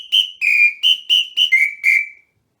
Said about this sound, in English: I'm going to use my samba whistle.